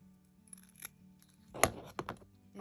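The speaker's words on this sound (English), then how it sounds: "now you're going to trim off the top, your extra pieces" Scissors trimming excess duct tape, a few quiet crisp snips with a sharp cut near the middle and two more shortly after, close and otherwise near silent.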